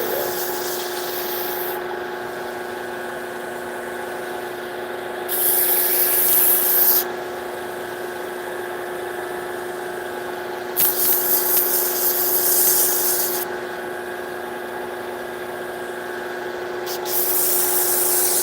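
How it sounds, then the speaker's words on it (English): A belt sander works wood with a steady whirring drone and a constant tone, while louder abrasive rasping bursts come and go as the belt is pressed onto the surface. "when you sand it, you don't want to push. You just kind of want to let the belt do the work"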